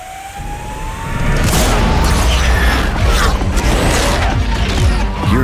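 Synthetic high-performance driving sound from a Hyundai IONIQ 5 N electric car, a loud roaring tone that swells after a quieter start and holds steady with rising and falling pitch sweeps throughout.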